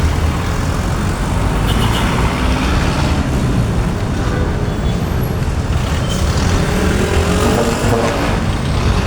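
Heavy road traffic on Marcos Highway near Santa Lucia, a steady loud wash of car and bus engines with tire roar and a faint air-brake hiss, continuous and close with no talk.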